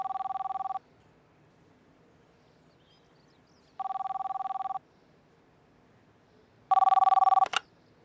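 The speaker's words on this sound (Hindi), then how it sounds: "अशर भाई का फोन है" A telephone rings in three separate bursts of electronic trilling with pauses between, the last one louder and cut off abruptly.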